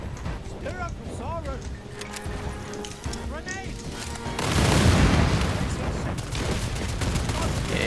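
Grenade explosions in the video game Second Extinction, a loud rumbling blast swelling midway under continuous game noise and gunfire, with someone talking over the action.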